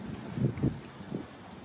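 Wind gusting around a sailboat riding at anchor in a Sainte Anne, Martinique anchorage during rain squalls, with a steady low rush and a few rumbling buffets against the microphone, fairly faint and with no voices.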